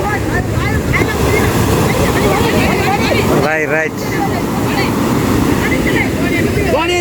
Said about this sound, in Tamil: அலை கூடையா இருக்கு